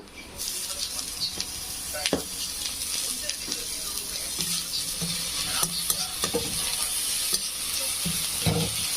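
Chopped ginger and garlic frying together in a pan for chilli paneer, a steady close sizzle with occasional scrapes and knocks of a spatula, and a voice faintly in the background.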